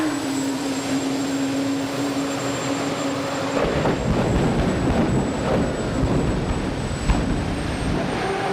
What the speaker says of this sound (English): This is Mike West's Jet Smart Car. A smart car with a helicopter engine strapped in the passenger seat.